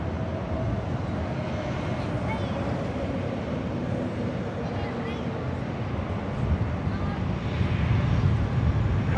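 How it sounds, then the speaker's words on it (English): A Delta Boeing 757 lines up and takes off from runway 24 left at LAX, a continuous broad jet roar with a low rumble that swells louder toward the end, heard from a distance over wind noise. "Another Delta 757. Lining up 24 left. Flight 2606, this flight taking off to Seattle."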